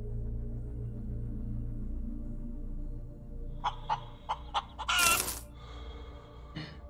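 Chicken clucking in the space survival game Breathedge: a short run of sharp clucks follows a low hum, then a louder squawk burst and a few scattered clucks, with no talk.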